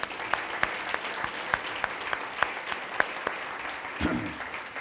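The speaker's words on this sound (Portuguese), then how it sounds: "Quando pode dar um aplauso a Jesus por isso?" Church congregation clapping in a steady, sparse rhythm, the claps distinct and moderately loud, with a brief swell of voices near the end.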